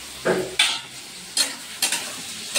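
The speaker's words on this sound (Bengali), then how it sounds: "এই যে পেঁয়াজ আর আলু একবারে ভেজে নিতে হবে" Onions and potatoes stirred in a frying pan, with several distinct scraping strokes of a spatula over a soft sizzle, close and moderately loud, with no voices.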